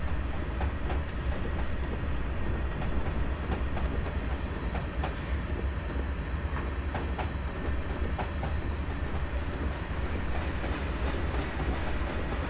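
A train in Train Simulator 2021 rolls along the rails of Feather River Canyon toward Oroville, with a loud steady rumble, a continuous low drone and faint rhythmic wheel clatter throughout, and no talking.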